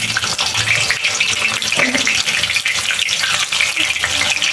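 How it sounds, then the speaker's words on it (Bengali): Banana slices dropped one by one into hot white oil for crispy banana chips, giving a steady, loud hissing sizzle that fills the clip without pause. "এবার এক এক করে কেটে রাখা কলাগুলো তেলের উপর দিয়ে দেবো।"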